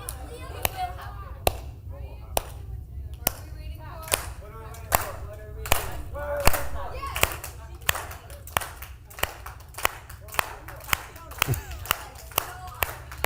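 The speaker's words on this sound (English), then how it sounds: "I don't know why we're clapping, but I like it." A group of people clap in a steady, evenly spaced rhythm, each sharp clap cutting through a busy room where voices and chatter carry on underneath.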